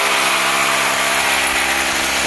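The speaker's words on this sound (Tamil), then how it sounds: "இப்போ பார்த்தீங்கன்னா தெரியும் நம்ம டெக்னிக் ட்ரில் போட்டுருக்காங்க." A power drill bores holes for a termite treatment in a house, making a loud, constant high whine with a rough buzzing edge that holds steady throughout.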